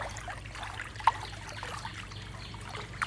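Floodwater flows around village houses in Charibatia, Jajpur, as a steady, fairly faint rushing trickle, with two brief knocks partway through and no talking.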